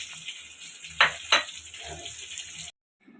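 Fenugreek seeds and bay leaf frying in hot oil with chopped onion, a steady close sizzle broken by two sharp spattering pops before the sound cuts off.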